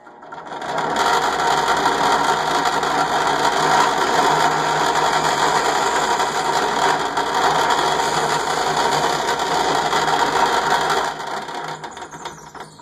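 A power drill whirs steadily for about ten seconds, boring through wood with a constant high-pitched grinding whine, then stops.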